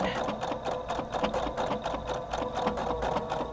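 A Husqvarna Viking Designer Brilliance 80 sewing machine runs steadily while stitching a blind hem in fabric, giving a close, continuous whirring hum with a fast, even mechanical chatter and no voices.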